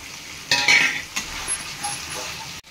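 Chicken with turmeric and green chillies being stirred in a hot pan, a sizzling scrape with a sharp burst near the start and a few lighter clinks of the utensil after, close up and alone.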